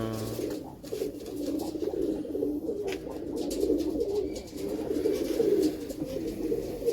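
Pigeons kept by a pigeon fancier coo steadily, a low overlapping murmur of throaty calls running without pause throughout at moderate volume.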